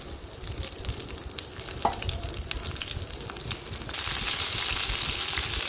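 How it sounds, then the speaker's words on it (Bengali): Whole pointed gourd and potatoes frying in hot oil for a vegetarian potol curry, a loud, dense crackling sizzle that grows brighter and steadier toward the end, close up with no voices. "এবার আমি আস্ত পটল আর আলু ভেজে নেব। পটলগুলো আমি দিয়ে দিয়েছি তেলে।"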